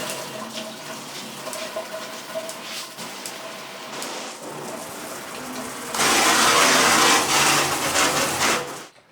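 Sparkpod ten-setting high-pressure shower head spraying water in a fine mist with its restrictor removed, a steady hiss that swells much louder partway through, then cuts off.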